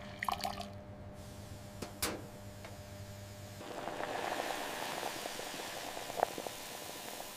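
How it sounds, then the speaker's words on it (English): Boiling water is poured into a cup of instant noodles during a lab test: a faint, quiet splash and hiss of liquid that begins midway and continues to the end, with a few soft drips before it. "The standard test, 3 minutes, boiling water."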